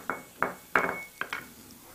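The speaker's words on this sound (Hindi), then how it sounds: "अब मैं इसमें डाल रही हूँ चॉप किया हुआ कैप्सिकम" Chopped capsicum goes into a pan of sautéed onion and ginger: five quick, close clinks and scrapes of a utensil against the pan at an uneven pace, fairly quiet.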